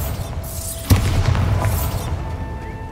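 A Bombarda blasting spell in the video game Hogwarts Legacy sets off a single loud, booming explosion with a sharp attack and a rumbling low tail that fades over a couple of seconds.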